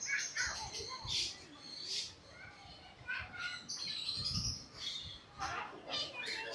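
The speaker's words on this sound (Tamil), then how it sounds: "பார்த்தீங்களா எவ்வளோ பறவைகள்ண்டு." Crows caw repeatedly at a resort, several harsh calls scattered among other chirping birds, mid-distance over a noisy outdoor background.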